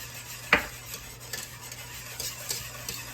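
Butter being stirred into homemade vanilla pudding, with a spoon scraping and knocking against the pot in one sharp clink followed by a few soft, scattered scrapes.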